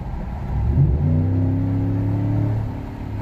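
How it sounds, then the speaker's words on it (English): A Chevrolet Silverado with an aFe intake revs up from idle into a rising, droning engine note that holds steady for a couple of seconds, close and loud with no talking. "Throttle again"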